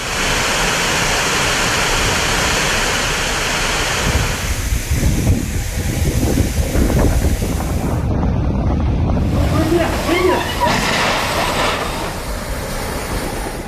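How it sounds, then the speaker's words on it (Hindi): Strong wind roars with a dense wash of heavy rain as Cyclone Tauktae strikes a city in Gujarat; the storm noise is loud and continuous throughout, with gusts swelling and surging midway. "शहरों में भी तेज हवाओं और भारी बारिश ने कई लोगों को दहशत में डाल दिया"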